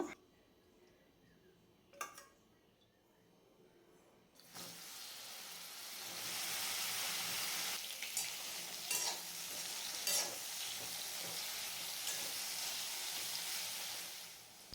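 Brinjal, tomato and green chillies frying together in one pan for a chutney, a loud continuous sizzle that starts abruptly after a quieter opening with a couple of knocks, with stirring scrapes through it.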